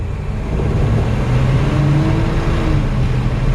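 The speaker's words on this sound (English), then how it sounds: "So you just turn the key in the on position, push the button, and it fires right up" A 1948 Oldsmobile Coupe rat rod with a 455 Buick V8 and 3-speed automatic runs at a steady, deep, throbbing idle, close and loud, with no talking.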